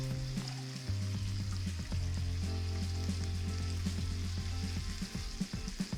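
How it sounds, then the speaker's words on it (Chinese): Duck liver sizzles and fries steadily in a hot pan, half-cooking for a French duck liver pâté; a continuous, close crackling hiss with small spattering pops, no voices. "总共需要煎大概5分钟。"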